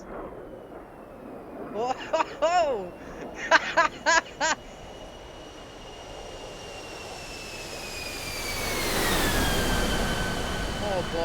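F-16 Viper fighter jet at airshow practice, a rising engine roar swelling in from a distance and building to a loud pass near the end, with excited voices exclaiming over it early on.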